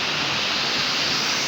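Astara Dustaqxana waterfall gives a steady, dense roar of falling water, broad and unchanging through the short stretch with no other sounds.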